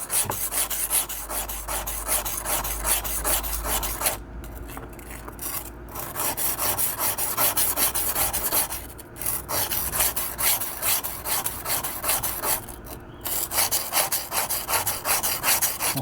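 A kitchen knife with a 3mm damaged edge and tip is ground freehand on a narrowing whetstone under heavy pressure, making a continuous loud, gritty rasping in long strokes with a few brief pauses.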